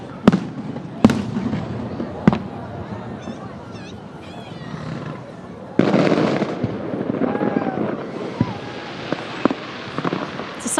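Fireworks burst at a Halloween parade in Derry, with sharp booms and crackles spaced irregularly over a steady crowd murmur, some blasts loud and close and others farther off, while people talk and children call out nearby.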